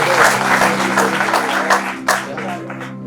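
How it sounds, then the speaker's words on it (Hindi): Steady, dense applause from an audience at a stage event, loud and continuous with a slight surge midway before easing. "आप लोग ताली बजा के जरा"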